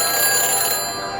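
A telephone rings after a number is dialed in the Back to the Future video game, a steady bright electronic ringing tone held loud and close for a brief moment, with no voices.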